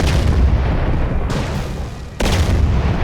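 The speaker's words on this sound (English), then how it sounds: "And these explosions are awesome." Heavy booming explosions from a modded GTA San Andreas video game, loud and close, two big blasts with rumbling low-end and a sharp crack at each onset.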